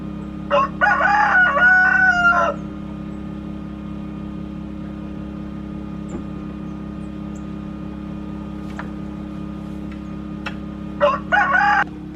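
A rooster in a chicken coop crows loudly nearby twice, the calls separated by a long stretch of steady background hum, with faint clucking between them.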